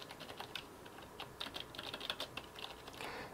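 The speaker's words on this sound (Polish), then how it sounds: "te klawisze pracują cicho," Fingers type quickly on the low-profile keys of a Tt eSPORTS Challenger Pro membrane keyboard, a soft, muted patter of closely spaced keystrokes heard alone and close up.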